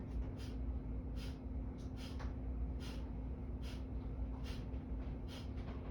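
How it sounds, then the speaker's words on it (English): Kapalabhati yoga breathing during a yoga class: a run of short, forceful nasal exhales, each a sharp puff at an irregular, roughly half-second pace, over a constant low background hum. "we're going to begin our Kapalabhati again. So just that forced exhale, just letting the inhale come in"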